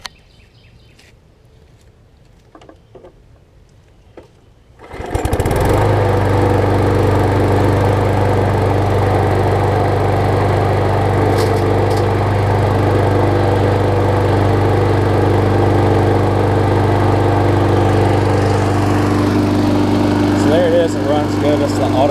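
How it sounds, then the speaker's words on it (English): A John Deere JS25 walk-behind lawn mower starts on the first pull after a few quiet seconds of faint handling noise, then runs at a loud, steady idle drone close by until the end. "let's crank it up and show you that it runs."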